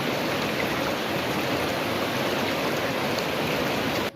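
A mountain stream flows continuously, a broad steady rush of water close to the microphone with no voices.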